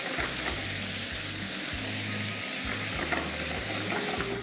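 Curry leaves sizzle loudly in hot ghee as a tempering for mushroom ghee roast, a dense continuous crackle heard close and alone.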